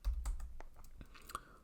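Quiet, close-up typing on a computer keyboard while writing C code, a few scattered soft key taps and clicks over less than two seconds.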